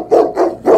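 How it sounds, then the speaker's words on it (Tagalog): Three quick, loud dog barks sound close by in a steady rhythm, with no voices over them. "Kaya ikaw, Trililing, tahol naman dyan"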